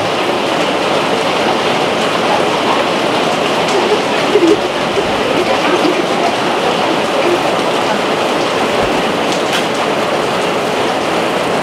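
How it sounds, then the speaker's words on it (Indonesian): Heavy rain pours down outside a small home coffee stall, a dense, even hiss that stays loud and unbroken throughout, with no talk. "Hujan sambil ngopi di kedai rumahan."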